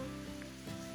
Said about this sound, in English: Oh, that rain's getting quite heavy now.